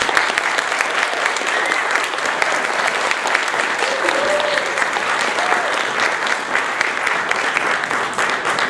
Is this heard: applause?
yes